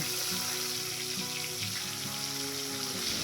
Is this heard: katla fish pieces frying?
yes